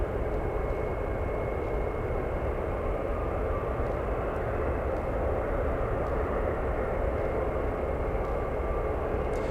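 A Swiss airliner begins its takeoff roll at San Francisco International Airport, a steady, broad jet engine roar heard from a distance that holds an even level throughout with no voices.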